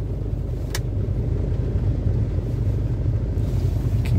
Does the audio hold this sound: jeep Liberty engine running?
yes